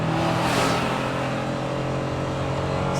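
A Honda NSX-R engine revs hard while driving, a loud, sustained mid-pitched roar that rises early and holds strong from inside the car, with no talking.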